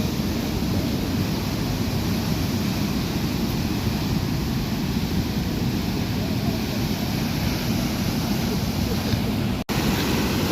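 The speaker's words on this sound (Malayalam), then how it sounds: "അങ്ങനെ വെള്ളം തുറന്നു വിട്ടിരിക്കുകയാണ്" Water released from the gates of Pechiparai dam churning in a steady, dense roar, loud and unbroken throughout with some wind buffeting.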